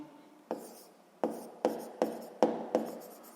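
A pen scratches across paper while a sixth-grade math exercise is written out, six short sharp strokes in quick succession, close and distinct, each tapering off quickly.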